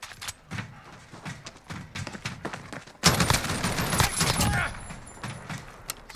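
ASH-12.7 rifle fired from the hip in Call of Duty Modern Warfare, scattered shots at first, then a dense sustained burst of rapid gunfire.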